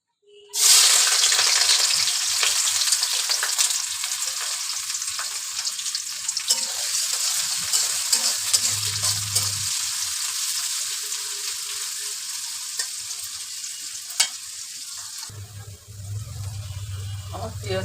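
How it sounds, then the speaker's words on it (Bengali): Sliced onions deep-frying in hot oil until crisp for haleem, a loud continuous bubbling sizzle filling the whole stretch, with occasional spatula stirs and a brief low rumble, close and without talking. "তেল গরম করে নিয়ে আমি পেঁয়াজ বেরেস্তা করে নিয়ে তারপর হালিমটা দেবো।"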